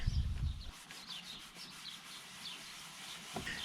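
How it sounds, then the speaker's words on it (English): Steady close-up hand scrubbing of a foggy headlight lens, a soft gritty sanding rub that keeps a repetitive back-and-forth rhythm, with faint chirps of birds far in the background. "just scrubbing, really pretty much sanding it back"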